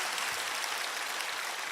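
Congregation clapping in praise during a Korean Easter Sunday church service, a brief, even burst of applause that sounds moderately close and continues steadily without talk.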